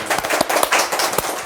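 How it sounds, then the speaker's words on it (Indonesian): Lively audience applause greets a guest on an Indonesian talk show, a short, dense patter of many hands with a few sharper claps standing out close by. "Beri tepuk tangan yang meriah"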